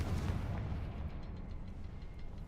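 A deep rumbling explosion from a Confringo blasting spell in the video game Hogwarts Legacy, a heavy low boom decaying into a sustained rolling roar, loud and close.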